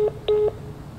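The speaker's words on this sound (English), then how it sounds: "Let's just call Machi real quick." Phone dialing tones in the video game SOMA: three short beeping keypad tones spaced evenly over about half a second, fairly quiet against a low background hum, with no talking.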